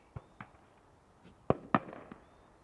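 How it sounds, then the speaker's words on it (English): Fireworks burst outdoors near Schiphol Airport, a handful of distant pops and bangs spaced irregularly, with two louder cracks close together toward the middle, set against a quiet background. "Does also sound like they are setting off fireworks north of us."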